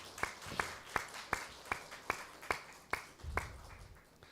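A church congregation gives a welcoming round of applause: about ten even, unison claps in a steady rhythm, fairly faint and with no talk over them.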